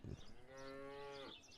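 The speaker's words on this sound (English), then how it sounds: "Hey cows, how it's going?" A cow in the video game Martha Is Dead gives one long, clear, low moo lasting about a second, close and alone.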